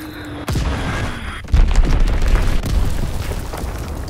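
Azon bombs explode in a Call of Duty WWII battle. Two loud, close booms land about a second apart, and a heavy rumbling roar with scattered crackle follows them.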